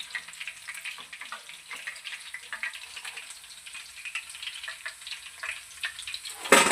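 Garlic kebab pieces fry in hot oil for a second, crisping fry, giving a close, continuous bubbling crackle with a sudden louder clatter at the very end.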